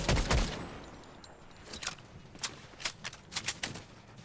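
Gunfire in the Fortnite video game during a Fortnitemares match, a loud opening burst followed by a run of sharp, quieter single shots spaced irregularly, with no talk.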